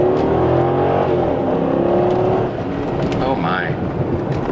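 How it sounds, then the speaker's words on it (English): A Hemi-powered Dodge R/T station wagon accelerates hard on a test drive, its loud engine note building and rising steadily, heard close from inside the car. "Oh my, the car's fast."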